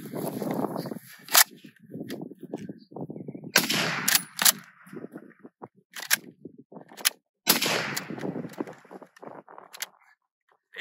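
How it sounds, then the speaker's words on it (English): A Sommer & Ockenfuss straight pull bullpup rifle fires in several sharp, separate cracks, loud and close, with mechanical clatter of working the action between shots. "So now I'll try to fire 3 rounds as fast as I can"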